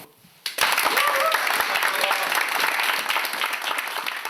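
Applause from fellow unit members for Captain Pyeon Bora, an Air Force officer leaving for her honeymoon, bursting in suddenly after a brief quiet moment and holding as dense, loud, sustained clapping from a close group.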